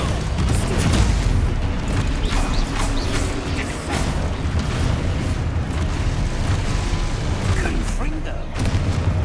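Explosive Confringo spell blasts in the video game Hogwarts Legacy boom and crash densely amid rumbling combat noise, loud and continuous, with a voice talking over it.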